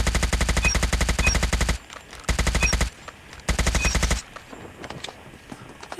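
Automatic HBRa3 rifle firing in a first-person shooter game's surface warfare event, three loud sustained bursts of rapid shots separated by short pauses, ending in quieter ambient game sounds.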